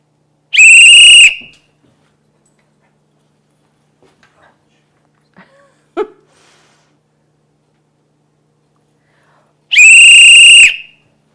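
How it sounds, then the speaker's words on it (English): Dog training whistle blown during a training session with a dog named Jack, two loud, shrill, steady blasts several seconds apart with near silence and faint small sounds between them. "I'm just going to blow the whistle"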